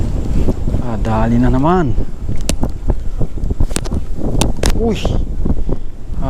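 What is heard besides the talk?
strong wind outdoors while fishing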